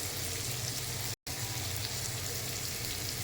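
Bengali five-spice seeds (panch phoron) fry in oil in a steady, fine crackling sizzle, close and even throughout apart from one very short cut to silence.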